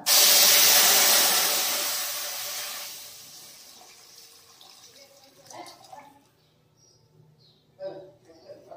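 Water pours into a sooji kakara batter mix with a loud hissing splash that fades over a few seconds, followed by quieter clinks and small movements.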